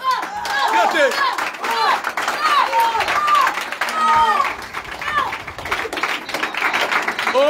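A group claps and applauds in a quick, scattered rhythm at close range for several seconds, with excited voices and cheering over the top.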